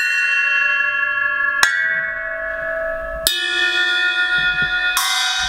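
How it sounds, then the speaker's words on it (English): Ice bells custom made by Tibetan monks ring out in three separate strikes, each a bright metallic chime that sustains and shimmers with long overtones before the next one sounds, heard clearly on their own. "These are ice bells."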